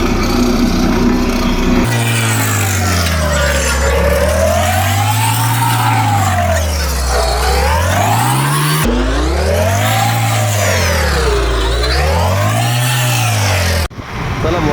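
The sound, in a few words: vehicles with loud aftermarket silencers revving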